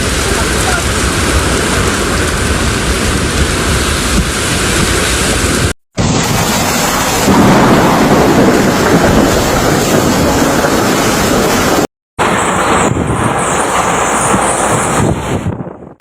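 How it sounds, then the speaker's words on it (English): Typhoon Nika batters Aurora and Isabela provinces in Luzon, Philippines, with a loud, continuous roar of strong wind and heavy rain, broken by two short cuts to silence. "Strong winds and heavy rain continued to lash parts of Aurora and Isabela provinces on Monday"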